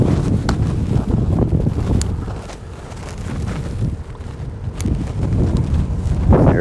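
Wind rushes over open water during a fishing trip as a steady, roaring buffeting against the microphone. It dips briefly in the middle and then builds again, with faint ticks underneath and no talking.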